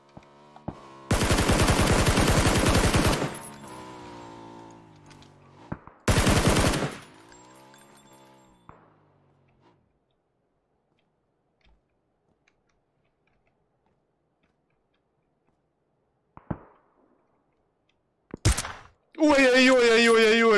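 Sniper shots from an AWM rifle in an online shooter game, a couple of sharp loud bursts early on followed by a long quiet stretch and a few faint isolated sounds.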